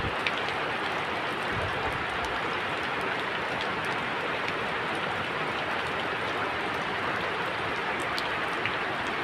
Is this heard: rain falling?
yes